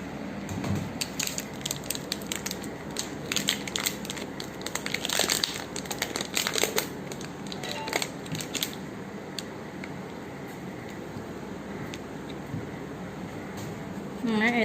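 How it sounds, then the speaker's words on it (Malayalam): Dairy Milk chocolate being cut into pieces, a run of crisp snapping and crunching knife strokes, busiest early and thinning out later, with a voice talking over it. "ഇനി നമുക്ക് ഡയറി മിൽക്ക് മുറിച്ചെടുക്കാം"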